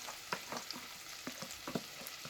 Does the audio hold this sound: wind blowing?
no